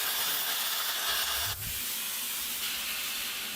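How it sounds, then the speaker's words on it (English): A plasma cutter slicing an old steel mount tab off the frame of a second-generation Ram 1500 in a backyard, giving a loud, steady hiss that breaks off for an instant and then carries straight on. "I'm going to plasma cut that off real quick"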